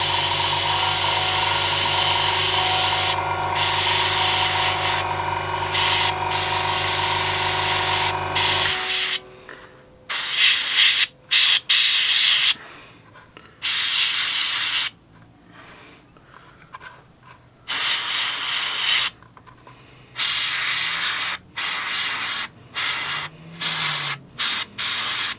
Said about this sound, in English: Just spray a little bit of paint there.